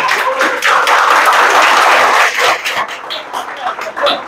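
A live class audience claps in loud, dense applause that gradually thins into scattered claps, with voices audible underneath.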